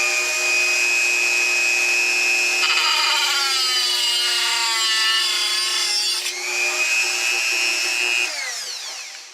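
A Dremel rotary tool trims the ends of freshly installed guitar frets during a refret, giving a steady, loud, high-pitched grinding whine that shifts in pitch as the cut progresses and fades at the end.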